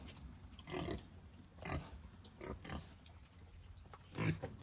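Pigs being fed on a farm in Jamaica grunt and snuffle nearby in several short, low bursts, fairly quiet against a soft background.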